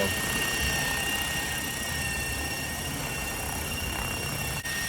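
Model helicopter running its rotor at 1,000 RPM during a test flight, a steady, loud broadband whir with constant high whine tones, holding level throughout with a brief dip near the end.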